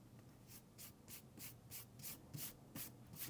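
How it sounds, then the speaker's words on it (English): Pencil eraser rubbing out line work on a drawing, about a dozen quick, soft back-and-forth scrubbing strokes in an even rhythm, close and quiet with no talk. "I'm going to erase some of this line work"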